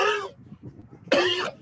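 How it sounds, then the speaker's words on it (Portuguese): Two harsh coughs close to the listener, separated by a short pause, with quiet breathing between them. "estou com uma tosse horrível"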